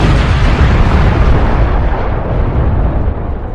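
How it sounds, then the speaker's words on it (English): A huge, sustained explosion roar for the Big Bang, loud and dense throughout, rumbling steadily and easing only slightly toward the end, with no voices. "They created the Big Bang."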